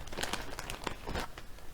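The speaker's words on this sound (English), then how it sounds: "Another Region 2 plastic bag." A plastic bag holding Boy Scout patches crinkles and rustles in close handling, quiet but busy with rapid crackling bursts throughout.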